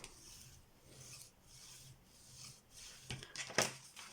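A spring-themed pocket card is folded in half and the crease pressed flat, giving faint, soft rubbing and scraping strokes that grow a little sharper in short bursts toward the end.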